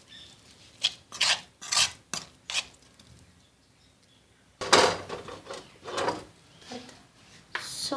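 A spoon scrapes and rubs around a bowl, mixing mashed boiled potatoes for potato bites, in a series of short rasping strokes with a louder run of scrapes near the end. Close by, with no talking.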